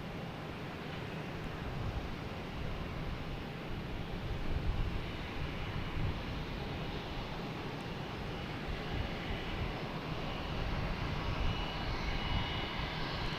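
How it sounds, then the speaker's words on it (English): A United Airlines Airbus A319 arrives at Boston Logan from Newark, giving a faint, distant jet drone, a low, steady wash of engine noise with a slight rise midway and no voices. "we have United Airlines and A319 coming in from Newark on the left"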